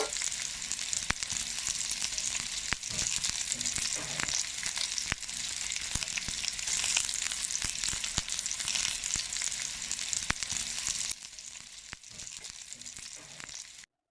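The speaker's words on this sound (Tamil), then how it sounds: "இப்போ சோமாஸ் வந்து நல்லா பொரிஞ்செடுத்து இப்படி பார்த்தாலே தெரியும் நல்லா கிறிஸ்பியாக இருக்குது" Sweet somas (karchikai) deep-frying in hot oil give off a dense, continuous crackling sizzle that stays steady and close, then softens slightly near the end.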